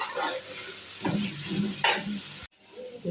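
Onions sautéing in a pan give a soft, close sizzle broken by a few scraping stirs, then a brief drop to near silence before the frying resumes.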